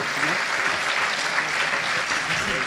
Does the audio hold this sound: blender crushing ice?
no